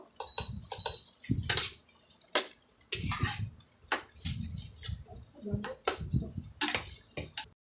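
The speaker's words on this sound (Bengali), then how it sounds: "কাজু কিশমিশটা দিয়ে নেবো দিয়ে এটাকে আমরা একটু নাড়িয়ে নেবো" Chili, cashews and raisins stirred in a pan, a spoon scraping and clinking against the metal in irregular strokes, close and fairly quiet.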